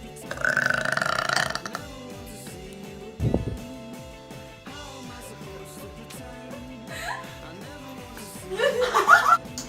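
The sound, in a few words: person belching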